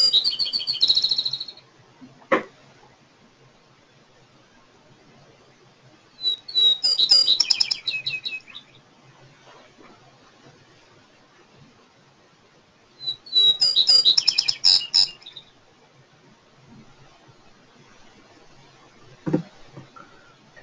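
A sparrow in sagebrush habitat sings three clear bursts of song, each a few introductory notes leading into a trill, spaced apart with quiet gaps and faint clicks between them.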